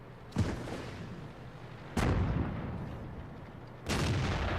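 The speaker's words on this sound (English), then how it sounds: "I fire and miss, and that was a waste of a premium shell" Tank cannon shots from a Hetzer in World of Tanks, three loud booming blasts about two seconds apart, each ringing out with a long rumbling tail, no voices over them.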